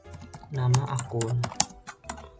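Fingers type on a computer keyboard in a quick run of clicks, close up, while entering account names into a spreadsheet for a computer accounting task, with a voice talking faintly underneath.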